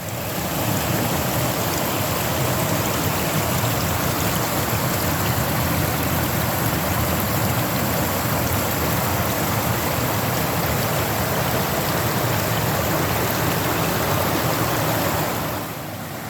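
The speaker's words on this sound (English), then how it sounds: "I'm just above the waterfall" A stream rushes just above a waterfall, a dense, steady wash of water noise heard up close, unbroken for the whole stretch before fading slightly at the end.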